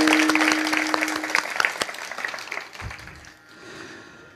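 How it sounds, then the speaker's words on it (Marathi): An audience at a kirtan performance claps loudly and densely, the applause gradually thinning and fading toward the end. "सगळ्यांनी जोरात टाळ्या वाजवायच्या"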